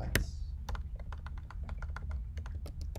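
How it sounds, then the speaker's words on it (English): Rapid, uneven keystroke taps on a new Mac computer keyboard, close and crisp, a steady run of clicks over a low background hum. "I'm getting used to typing on it."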